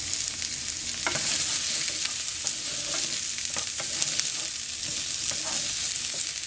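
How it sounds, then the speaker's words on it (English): Half a cup of diced onion sautéing in hot oil in a pan, a loud continuous sizzle with frequent scraping and tapping as it is stirred, close and without talk. "I got my oil hot, so I'm going to go ahead and add a half a cup of diced onion"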